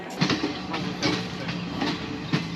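A train on the Ella to Kandy line in Sri Lanka rolls along the rails with a regular clickety-clack of wheels over joints, repeating steadily under a continuous low rumble, heard from a second-class carriage.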